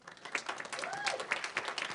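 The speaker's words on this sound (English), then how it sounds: "Young people, give yourselves a hand," A young audience at a youth symposium debate applauds, with steady, fairly quiet clapping and scattered sharp claps across two seconds and a faint voice mixed in.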